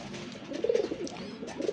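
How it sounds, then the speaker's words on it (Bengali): Lahori pigeons coo close by in a quiet setting, giving two soft, low, throaty bursts about a second apart. "আর বন্ধুরা এখানে আরেক জোড়া কবুতর আছে, লাহোরি কবুতর।"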